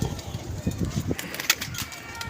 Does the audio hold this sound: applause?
no